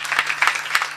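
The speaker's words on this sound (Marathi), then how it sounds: "त्यांच्यासाठी एकदा जोरदार टाळ्या." Audience applause at a Marathi devotional kirtan gathering, a steady wash of many hands clapping with a few louder swells, close and continuous through the brief moment.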